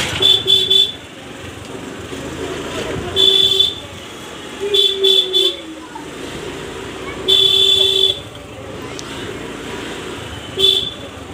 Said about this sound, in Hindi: तब हम जा रहे हैं स्पीड से हॉर्न बजाते बजाते हुए।